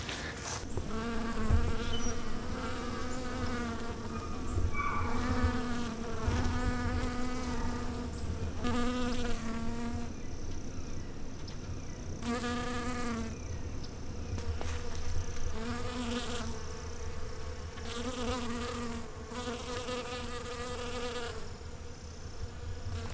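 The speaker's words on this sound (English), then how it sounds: "I am surrounded by swarming and buzzing honeybees that are covering it" Swarms of honeybees buzz around a blossoming maple tree, a dense, continuous hum with individual bees droning louder as they pass near, steady for the whole stretch outdoors.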